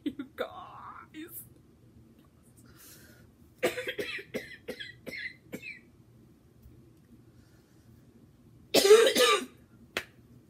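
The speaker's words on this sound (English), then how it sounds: "I freaked out so bad I started coughing." A close, harsh cough bursts out near the end, after scattered breathy sounds and quiet murmuring.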